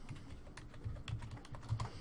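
Keys clatter on a computer keyboard during accounting data entry in a quick, irregular run of soft taps up close, and no voices are heard.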